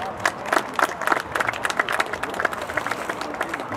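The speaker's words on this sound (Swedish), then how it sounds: "Vi får ge en liten hjälpapplåd här på väg in." A crowd at a youth BMX race, a B-final for seven-year-olds, gives a burst of scattered hand clapping, fairly close and lively, with a murmur of voices underneath.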